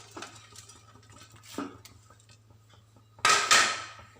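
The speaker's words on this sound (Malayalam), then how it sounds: "അപ്പോൾ അതാ ഞാൻ വറുത്ത് വെച്ച നമ്മുടെ ചിക്കൻ പീസ് ഇതിലേക്ക് ഇട്ട് കൊടുക്കുകയാണ്" Fried chicken pieces for dragon chicken tipped into a pan and stirred, giving a few distinct metallic clinks and scrapes, with a louder clattering burst near the end over a quiet kitchen background.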